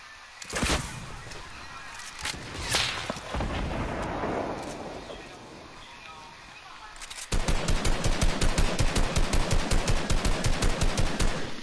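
Rocket launcher blasts and rapid gunfire ring out in a Fortnite match, with heavy booms early on and then a dense, loud, steady burst of automatic fire through the final seconds.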